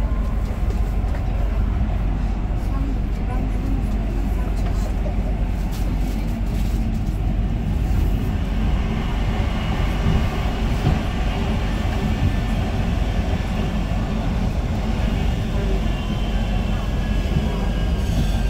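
Interior of a moving Siemens B80 metro car on the BursaRay line in Bursa, a loud continuous rumble of wheels on track with rhythmic clatter and faint squeal, and no talking.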